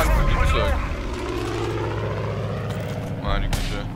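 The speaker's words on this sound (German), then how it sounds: "Noch ein Flugzeug." Aircraft engine roaring past in the Far Cry 5 video game, a loud whooshing drone that swells and fades under ongoing game sounds while a person speaks over it.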